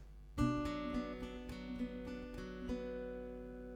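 Strummed acoustic guitar chords ring out alone, several changes in a slow, steady progression with notes sustaining between strums.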